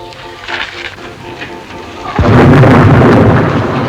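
A thunderstorm film effect: steady rain patters quietly, then a sharp thunderclap breaks into a loud, sustained rumbling roar of rain and thunder.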